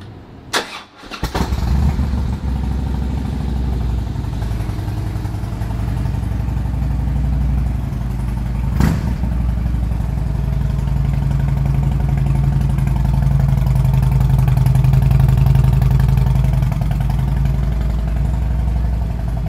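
A 2009 Harley-Davidson Street Glide with a six-speed 96-inch engine and true dual Rinehart exhausts starts with a short burst, then settles into a loud, steady, close low idle that swells slightly near the end, no talking.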